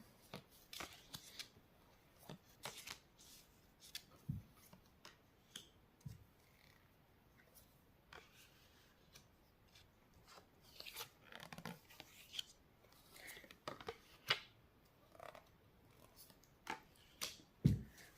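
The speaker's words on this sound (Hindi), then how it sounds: "थोड़े और कार्ड निकाल लेती हूँ फिर बताती हूँ" Tarot cards being shuffled and drawn for a reading, giving soft intermittent riffles, slaps and papery flicks at close range, scattered in quiet bursts with pauses between them and no talking.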